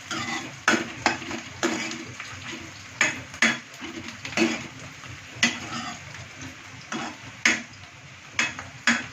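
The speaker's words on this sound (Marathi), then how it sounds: "याला 1 मिनिट असं हलवत राहायचं." Chicken kheema is stirred in a pan over a soft frying sizzle, with a spoon scraping and clacking against the metal in irregular, repeated strokes. It is close up and no one speaks.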